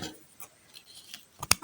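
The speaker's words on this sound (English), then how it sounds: "and cut with the scissors." Scissors snipping thread while making a fabric bow hair piece, soft faint handling ticks followed by a crisp, close double snip at the end.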